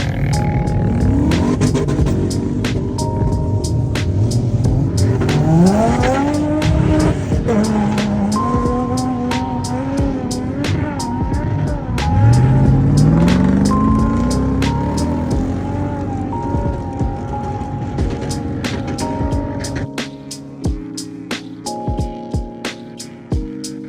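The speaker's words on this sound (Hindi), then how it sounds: "गाड़ियों की इंजन नॉइज़ सुनकर बहुत ही अच्छा लग रहा था" Loud revving engines of modified 4x4s roar and rise in pitch as they accelerate nearby on desert dunes at the Liwa festival in Abu Dhabi, with sharp clicks and pops scattered throughout.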